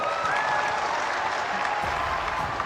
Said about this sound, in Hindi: हो जाए ताली आज